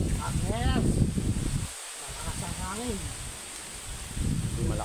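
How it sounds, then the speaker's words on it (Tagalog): Strong wind blows outdoors as a steady broadband rush with rustling, nearly continuous at moderate level. A voice talks over it in the background. "Malakas ang hangin ngayon dito"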